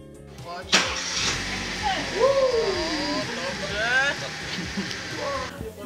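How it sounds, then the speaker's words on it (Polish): Hyundai i20 car maneuvering into a parking space, engine running at low speed with a thump near the start, while someone speaks over it throughout. "Parkując tym Hyundai'em i20 będę musiała być szczególnie ostrożna."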